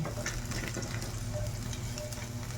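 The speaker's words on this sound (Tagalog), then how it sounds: "Gisa na tayo. Konting bawang." Garlic sautés in a hot pan for homemade shanghai, giving a steady, quiet sizzle and crackle that is close and continuous with no talking.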